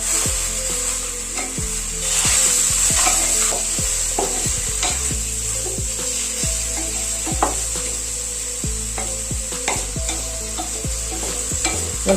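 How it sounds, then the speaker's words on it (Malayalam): Chicken being stirred into a hot frying pan for a Kerala dish, a steady loud sizzle running throughout with repeated scraping and knocking strokes of the spoon against the pan, close and without talk. "എന്നിട്ട് നല്ലപോലെ ഇളക്കി മിക്സ് ചെയ്ത് കൊടുക്കും."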